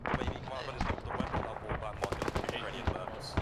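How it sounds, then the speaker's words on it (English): Rapid bursts of autocannon fire from a BMP in Arma 3 ground combat crackle through, loud and continuous over the speech of players talking on comms. "we're taking auto cannon fire on the right"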